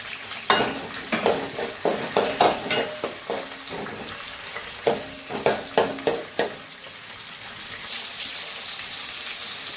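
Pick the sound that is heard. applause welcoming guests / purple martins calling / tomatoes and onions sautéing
tomatoes and onions sautéing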